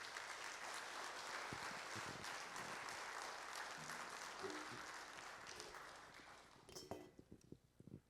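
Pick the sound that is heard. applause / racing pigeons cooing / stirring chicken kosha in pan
applause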